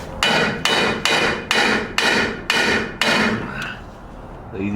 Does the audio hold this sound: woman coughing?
no